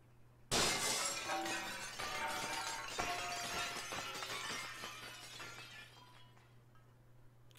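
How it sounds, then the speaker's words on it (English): A magical barrier shatters in The Legend of Zelda: The Wind Waker HD, a sudden loud burst of breaking glass followed by several seconds of tinkling, ringing shards that slowly fade, with a steady low hum underneath. "Shatter that barrier."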